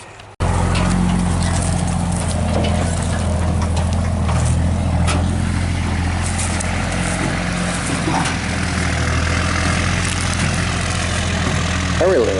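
An old International Harvester truck idles steadily nearby, a low rumbling engine drone holding constant throughout, with faint background noise over the top.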